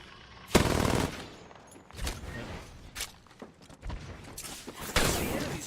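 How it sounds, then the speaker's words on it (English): Enemy gunfire in the game Overwatch comes in several loud bursts with rapid shots and short gaps between them, mixed with quieter clicks and movement. "The enemies are shooting at me."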